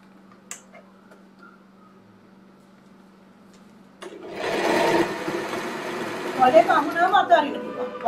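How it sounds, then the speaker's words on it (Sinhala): An electric sewing machine stitching a shirt collar starts after about four seconds of near silence, running in a dense, loud whir with slight changes in speed and a few higher mechanical rattles near the end. "නවල එහෙනම් මෙතන ඉඳලා මහනවා පුතේ මේ බලවන්න"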